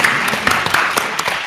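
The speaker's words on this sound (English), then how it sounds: "let's give a round of applause to our panelists" A short burst of audience clapping for panelists at a health disparities conference, fairly close and loud, continuous and textured with individual claps.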